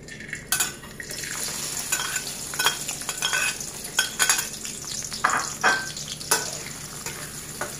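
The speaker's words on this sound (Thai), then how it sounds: "นำเมื่อกี้ที่เราหั่นไว้นะคะลงทอดเลยค่ะ" Sliced ginger, shallots and garlic frying in oil in a pan over low heat, a steady gentle sizzle broken by repeated scrapes and clinks of a utensil stirring against the pan, close and moderately loud.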